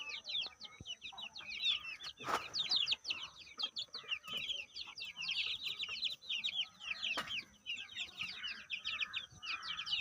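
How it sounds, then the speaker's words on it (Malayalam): Local naked-neck chickens, including a larger black-and-white bird, cluck and chirp continuously and fairly close, with overlapping calls throughout and no talking. "വൈറ്റ് ആൻഡ് ബ്ലാക്ക് കോഴി ഒത്തിരി കൂടി സൈസായി കോഴി."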